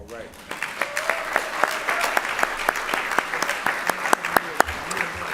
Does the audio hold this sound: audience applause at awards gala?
yes